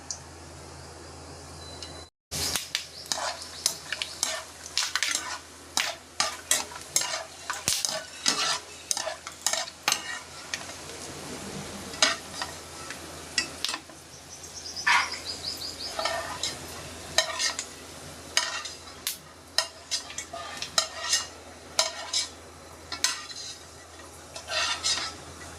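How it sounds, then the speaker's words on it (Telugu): Peanuts fry in a pan while being stirred, producing a long series of sharp spatula scrapes and clinks against the metal over a light, continuous sizzle, with a brief silence near the start. "పల్లీలు మంచిగా ఫ్రై అయిన తర్వాత తీసేసుకుందాం."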